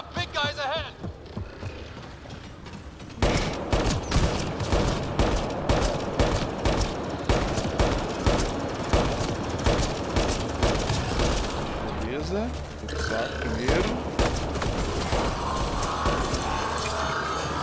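Sustained gunfire in the sci-fi shooter Mass Effect Andromeda, rapid loud shots rattling over a dense game soundscape of mechanisms and effects, with a player talking at times over the action.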